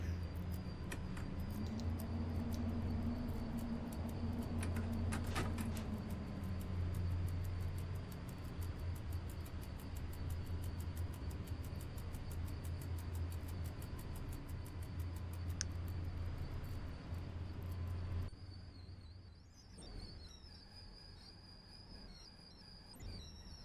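Railway wagons in the SimRail train simulator game, hauled by an EU07/EP07 electric locomotive, make a steady broad rumble and roar like an airplane, with a droning hum that fades and a sudden drop near the end.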